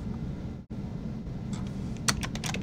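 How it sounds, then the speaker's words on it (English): Fingers type on a computer keyboard in a short, close burst of quick key clicks that gets busier toward the end, with no talking. "and here I can begin just typing Mike"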